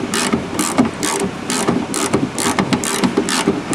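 A ratchet wrench works a stubborn car door latch bolt loose, reaching up inside the door. Quick bursts of close mechanical clicking repeat steadily in short strokes and stay fairly loud throughout, and no one speaks.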